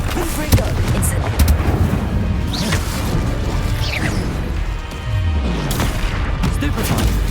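Spell blasts in Hogwarts Legacy, cast one after another in quick combat: heavy booming impacts and whooshing bursts pile up continuously, with a few rising and falling magical swishes layered over a loud, dense battle din.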